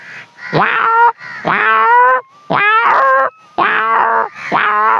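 A voice imitates adult cats fighting up close: five loud, drawn-out yowling wails with harmonic pitch sweeps, separated by brief pauses.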